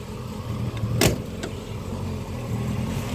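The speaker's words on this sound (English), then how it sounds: "Car is still running on a bit of choke, which is making it a little bit lumpy" A 1964 Hillman Super Minx engine idling on choke, a steady, slightly uneven low rumble heard close by, with a couple of brief clicks or knocks partway through.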